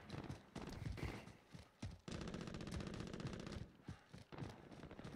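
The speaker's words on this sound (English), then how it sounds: "there's gunfire not that far from us to our left" Rapid automatic gunfire from the video game Call of Duty: Warzone rattles in long sustained bursts, with a few brief gaps and single shots between them, fairly close and loud.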